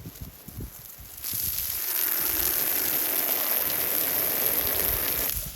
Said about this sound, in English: I'm going to take the hose and put a jet of water on the phone